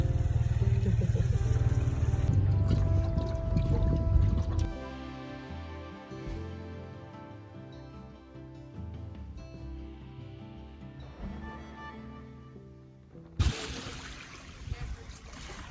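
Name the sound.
boat cruising on water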